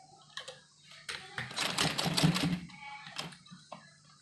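A sewing machine runs briefly while stitching a V-shape umbrella frock, giving short bursts of rapid mechanical clatter with a longer steady run in the middle, close and fairly quiet.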